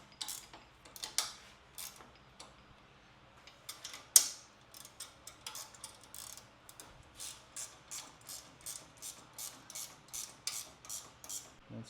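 Tightening a bar on a Dewalt stand for mounting a Ryobi saw: close, steady clicking of a ratchet wrench in repeated strokes with a few louder metallic knocks, no talking.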